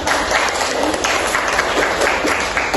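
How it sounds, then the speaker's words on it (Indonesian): Steady, dense applause from an audience at a high school debate practice, filling the whole stretch at an even level without a break. "tepuk tangan untuk semua tim"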